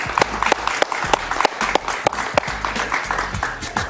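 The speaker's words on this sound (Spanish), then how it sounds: "Un aplauso para Rafael Poleo" Studio audience applause on a Spanish-language talk show, steady clapping with sharp individual claps standing out, moderately loud and continuous.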